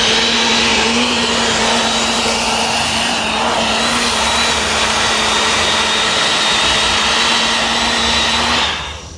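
A garden cultivator tills soil in a fall carrot bed, its small engine droning loudly and steadily close by before cutting off near the end.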